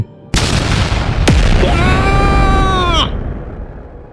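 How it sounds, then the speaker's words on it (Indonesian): A sudden loud blast erupts into a roaring, crackling burst of fire, followed by a ringing whine that fades as the roar dies down. "Ledakan api merah langsung menyembur."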